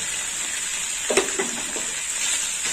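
Ground coconut paste drops into a hot pan of potatoes, giving a steady close sizzle with a few brief scraping stirs partway through.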